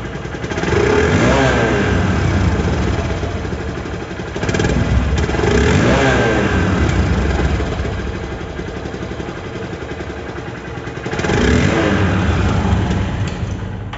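A second-hand 2020 Hero Hunk double-disc motorcycle runs close by, its engine rising into loud revs and dropping back to idle in several swells.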